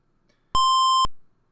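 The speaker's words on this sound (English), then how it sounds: "Beep, beep, beep." A single clean electronic beep from a Santa Christmas video game, a steady half-second tone that rings out alone against silence.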